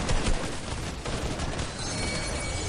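Rapid gunfire from a Fortnite match, dense continuous bursts of shots filling the whole stretch, loud and close with no pauses.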